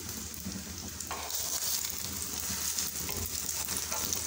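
Bread pieces, lightly coated, fry together in a pan with a steady, close sizzling hiss that swells slightly partway through and carries on unbroken, with no voices.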